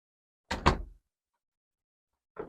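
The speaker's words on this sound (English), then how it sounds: "I'm going to close the door here" A door near a turntable is pulled shut, giving a short, solid thump with a brief rattle. About two seconds later a second, softer knock follows, and the room is otherwise quiet.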